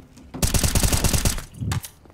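Rapid automatic gunfire from Counter-Strike: Global Offensive, a loud sustained burst of closely spaced shots lasting about a second, followed by a brief separate blast.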